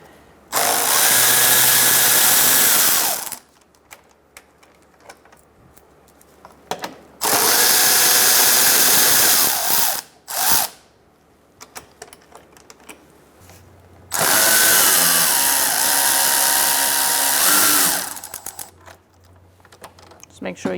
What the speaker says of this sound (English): we're going to use a 10 millimeter socket to remove these two bolts.